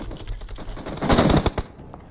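Gunfire in the PUBG Mobile video game comes as a rapid automatic burst of shots that swells and then cuts off, loud and fairly close.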